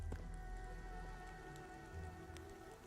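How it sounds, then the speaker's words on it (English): Faint, steady rain patter in the Endfield video game, soft continuous splattering with a low hum beneath and no voices. "Splattering rain."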